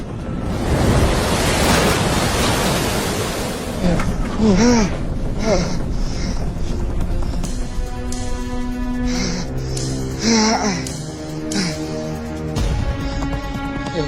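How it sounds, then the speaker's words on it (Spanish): Flight 421, an airliner, slams into river water at nearly 320 km/h in a dramatized reconstruction: a loud rushing roar of water and wind, followed by scattered crunching, clattering impacts and groans of wreckage. "El vuelo 421 impacta contra el agua a casi 320 kilómetros por hora."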